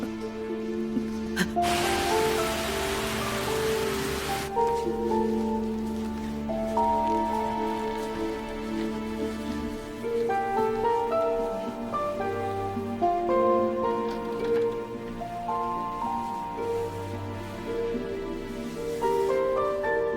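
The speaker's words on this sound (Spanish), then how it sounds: "Pero está lloviendo." Rain falls in a brief hissing burst lasting a few seconds, then gives way to soft music that carries on afterward.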